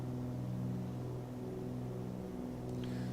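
Steady, droning twin-piston engine hum of a Cessna 414 in Microsoft Flight Simulator, heard from inside the cabin as a constant harmonic tone with a slight swell near the end.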